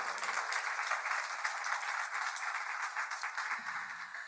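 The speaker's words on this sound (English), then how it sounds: "Please give yourself a very strong round of applause." A conference audience gives a steady, full round of applause, dense even clapping sustained throughout at moderate distance with no speech over it.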